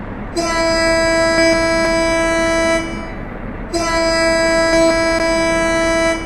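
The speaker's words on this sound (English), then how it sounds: "Let's have a listen to the horn." A DB G6 locomotive horn in Train Sim World 2 sounds twice, each a loud, sustained multi-tone blast of nearly three seconds, separated by a brief gap.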